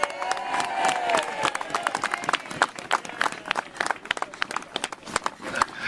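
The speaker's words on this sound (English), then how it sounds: "big cheer please for Richard Snell" A crowd at a street march cheers and claps for a speaker, Richard Snell, sharp scattered claps and whoops over a loud murmur, fairly close and irregular.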